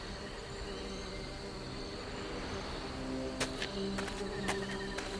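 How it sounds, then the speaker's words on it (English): Bees swarm around an inhabited nest on hard, dry ground in The Book of Unwritten Tales, a continuous insect buzz over a steady ambient bed, with a few sharp bright chimes near the end. "There are bees buzzing around all over the place and they're fighting the fire fairies for the nectar"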